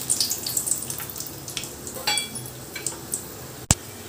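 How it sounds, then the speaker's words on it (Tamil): Whole spices such as cardamom and bay leaf fry in ghee and oil for a Pondicherry chicken thokku biryani, making a soft crackling sizzle with scattered pops and one sharp clink near the end. "இது நல்லா பொரியுது"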